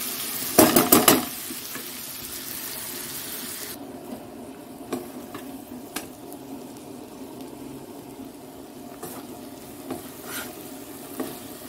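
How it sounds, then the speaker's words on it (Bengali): Chopped onion frying in a pan for an egg curry, a soft steady sizzle with scraping stir sounds and a few sharp utensil clinks near the start. "পেঁয়াজটা একটু ভাজা হোক, একটু সামান্য ভাজা হবে"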